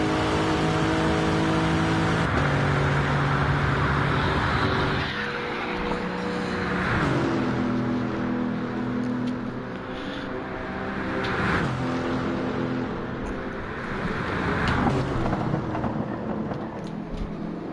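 GR3 race cars roar down the Conrod straight in a racing video game, with a loud, sustained engine drone that rises through gear changes and passes in waves. No one talks over it.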